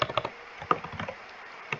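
Quick bursts of keystrokes on a computer keyboard while typing a Minecraft command, close and fairly crisp with short pauses between clusters of taps.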